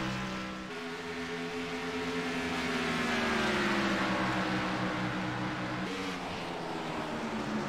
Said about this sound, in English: you hear car around on the back straightaway.